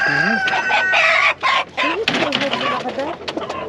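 A rooster crows nearby at a chicken market, its drawn-out call rising and falling, while hens cluck and squawk around it and people talk underneath.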